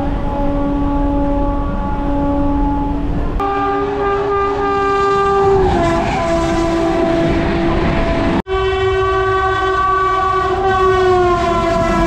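A Howrah–Purulia MEMU train sounds its horn in long, loud, sustained blasts close by, with a brief break and the rumble of the moving train beneath.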